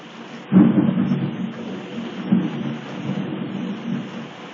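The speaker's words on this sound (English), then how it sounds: "This is reporting in Upton Cross. Thunderstorm, man." Thunderstorm in Upton Cross, Cornwall: a sudden nearby thunder crack rolls into a long rumble, followed by another lower rumble, over a steady hiss of falling rain.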